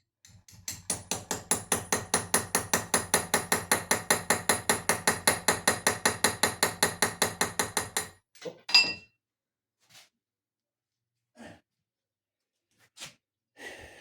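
A knife strikes nails, starting with a long run of rapid, evenly spaced metallic hits. After these stop, several sharp, isolated chops follow, separated by silence.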